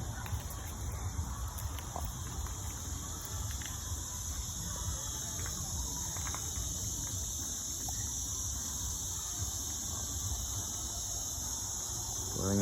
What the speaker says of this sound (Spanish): Pueden escuchar la famosa chicharra cantando.